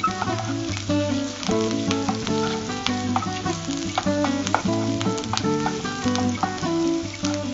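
Onions sauté in a pan until translucent, already cooked with ginger and garlic, producing a loud, continuous sizzle with crisp crackles and stirring throughout.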